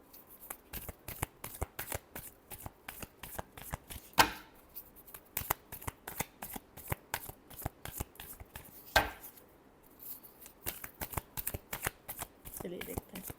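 Tarot cards are shuffled by hand in a long run of rapid, crisp riffling flicks that rise into two louder bursts, close and clear, with no voice over them.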